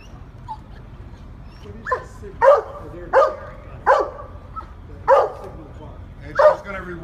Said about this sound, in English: one of San Francisco Fire Department's 4 search canine dogs